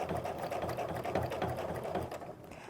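A domestic sewing machine quilting along a seam line during ruler work on half square triangles, its rapid, even needle chatter running steadily and close.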